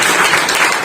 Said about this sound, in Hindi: ताली बजाओ आशीष के लिए